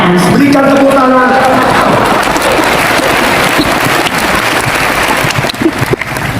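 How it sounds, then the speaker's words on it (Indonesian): A church audience at a large Asian revival gathering breaks into sustained hand clapping, a dense, loud patter that continues for several seconds with a voice briefly heard at the start. "Let's clap our hands."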